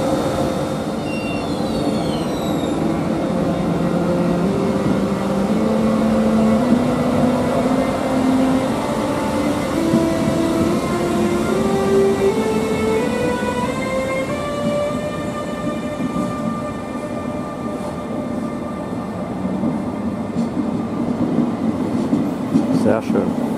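A train bound from Innsbruck to Munich passes through Kufstein with a loud, sustained rumble. Rising and shifting whining tones sound as its motors accelerate, over steady wheel noise.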